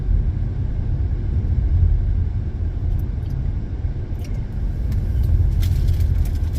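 A car cruises on a road, a steady loud low rumble of engine and tire noise heard from inside, with faint clicks late on and no talk.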